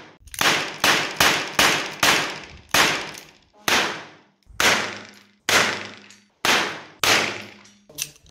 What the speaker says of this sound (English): So as you can see there, fun little pistol to shoot.